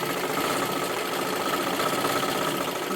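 Sewing machine running steadily while stitching silky fabric, a continuous fast mechanical whir and rattle that stays at an even level throughout with no talking.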